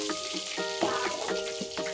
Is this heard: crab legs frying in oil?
yes